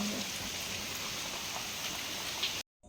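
Steady rain falling continuously during a monsoon, a dense even hiss of drops on surfaces, close and constant with no talk, ending in sudden silence.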